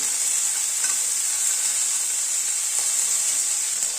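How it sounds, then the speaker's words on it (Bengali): Tomato and green chilli sautéing in ghee in a pan for a paneer dish, giving a continuous, even sizzle and hiss with faint stirring taps, close and steady throughout. "ঘিতে এই টমেটো আর কাঁচা লঙ্কাটা একটুখানি হালকা করে সতে করে নেব"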